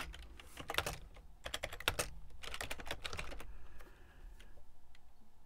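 Computer keyboard typing while writing a JavaScript null and undefined check, quick clustered keystrokes in uneven bursts with a brief lull, close but quiet.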